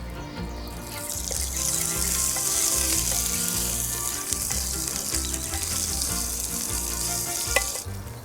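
Meat for a stew browns in a pan with a continuous close sizzle and crackle, steady throughout with occasional sharper pops and no talking.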